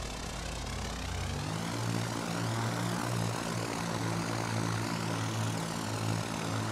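A Piper Twin Comanche PA30 in the X-Plane 11 flight simulator drones with steady propeller engine noise, loud and continuous throughout, with a low throb shifting in pitch just after the start and no talking.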